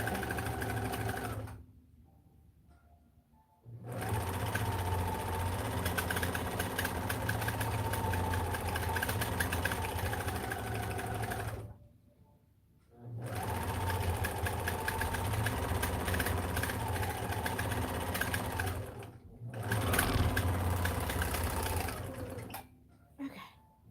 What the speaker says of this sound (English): Okay, so I serged the top edge.